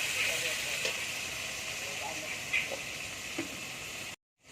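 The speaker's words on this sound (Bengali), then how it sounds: "তেলটা গরম হয়ে গেছে দিয়ে দেবো উঠছে উচ্ছেগুলো ভেজে নেবো ভালো করে" Bitter gourd slices fry in hot oil with a faint, steady hiss and sizzle and a few soft pops, cutting off abruptly near the end.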